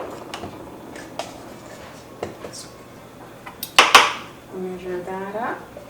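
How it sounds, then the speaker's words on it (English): Measuring cups and spoons being handled in a kitchen while making strawberry shortcake: a few scattered light clinks and taps, then a louder clatter of metal and glassware near the end, with a voice briefly heard. "let me grab the measuring utensils"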